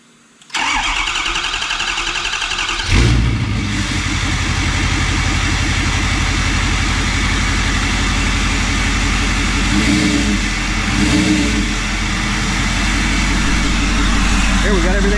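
A Ford 6.7 Powerstroke diesel in a crew cab pickup cranks briefly, fires up loudly and settles into a steady, rumbling idle that carries on close by for the rest of the stretch, with slight rises in engine note.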